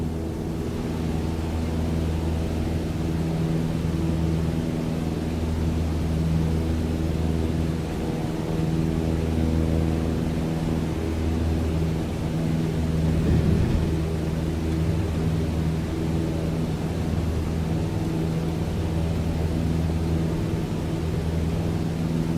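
Aircraft engine in Microsoft Flight Simulator 2020 with its power cut, a steady low droning hum that holds evenly throughout with no sharp changes, no voices over it.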